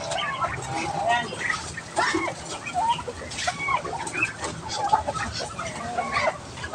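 Chickens cluck and chatter in a farm pen in a rural province, with scattered calls at moderate distance over a busy background, while a person talks over them.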